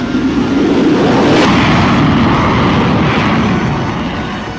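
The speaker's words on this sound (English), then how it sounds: "It has one Pratt & Whitney F-135 afterburning turbofan engine" A Lockheed Martin F-35 fighter jet with a single Pratt & Whitney F-135 afterburning turbofan engine roars past as a loud broadband rush that swells and then slowly fades, with no voices.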